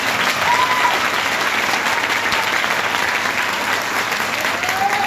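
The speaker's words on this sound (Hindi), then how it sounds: "क्या ऐसे ही ताली बजाते हो?" Audience applause at a network-marketing training seminar, a dense, steady wash of many hands clapping that holds loud and even for the full five seconds, with no pauses.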